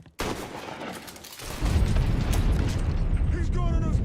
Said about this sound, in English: He's gunning us down.